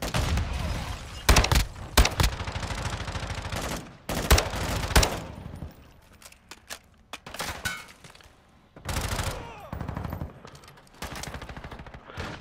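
Bursts of gunfire from a Call of Duty: Modern Warfare II firefight, several loud clustered volleys and rapid automatic strings separated by quieter gaps, with shots near and far.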